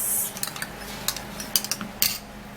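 A spoon stirs a vitamin C toner mixture in a container, giving a series of light, irregular metallic clinks and scrapes close by, with a few sharper taps spread through the clip.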